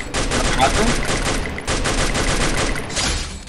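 Dense bursts of rapid automatic gunfire from the battle royale game Free Fire, loud and nearly continuous with a brief break midway, the shots overlapping into a crackling volley.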